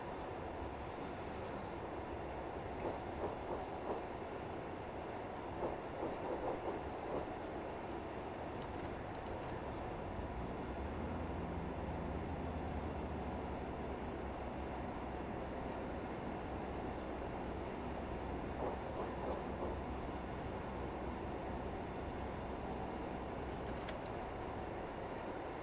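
A Class 143 Pacer train runs along the rails on the Barnstaple to Exeter line, a steady low rumble and rolling drone that holds throughout, with faint rattles and bumps rising now and then.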